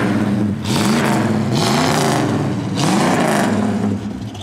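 A 1965 Ford Mustang coupe's 289 V8 revs repeatedly in three long surges, rising and falling in pitch, loud and close with a throaty single-exhaust tone.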